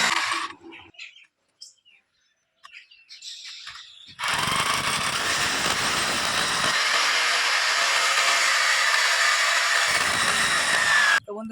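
An electric drill bores holes into a wall for an outdoor air-conditioner unit bracket, a loud sustained grinding whine after a few faint knocks and clicks, running steadily with a brief drop partway through.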